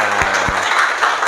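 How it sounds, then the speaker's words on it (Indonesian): Audience applause in a classroom of student-teachers during an Islamic Qur'an and Hadith lesson, a brief dense patter of clapping with a few sharper claps standing out near the start. "Silakan tepuk tangan."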